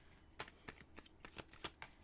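A deck of tarot cards riffled and shuffled by hand in a series of crisp, rapid flutters, about six short bursts spread unevenly across two seconds, close and fairly quiet with no talking.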